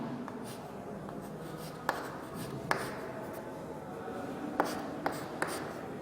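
Pen or chalk writing out the structure of phenol during a chemistry lecture: continuous scratchy strokes with several sharp taps of the tip, close and moderately quiet.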